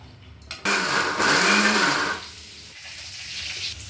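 A mixer grinder whirs loudly for about a second and a half as it grinds cooked tomatoes into a masala, then its motor winds down and fades.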